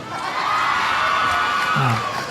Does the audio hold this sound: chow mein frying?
no